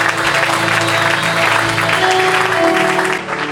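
A church congregation at an evening deliverance-school service applauds to acclaim the Lord, giving sustained, loud, even clapping that fills the room for several seconds, with a sustained organ or keyboard tone underneath, before it fades at the end.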